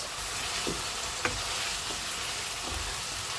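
Spiced boal fish curry sautéing in a pan gives off a steady, even sizzle, with a few soft stirring scrapes and light clicks here and there.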